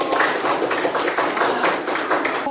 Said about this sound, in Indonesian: Oke, tepuk tangan dulu kelompok.